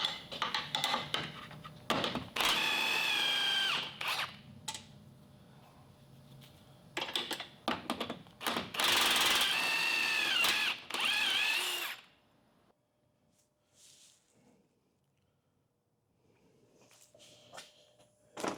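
An impact gun works on the lower control arm nut of a 2002–06 Toyota Camry, with loud close rattling bursts in several separate runs followed by a quieter stretch of faint shop noise.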